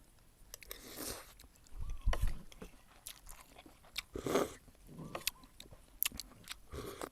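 Close, crunchy chewing of peanuts, with irregular bursts of cracking and crunching that rise and fade over several seconds, no talk.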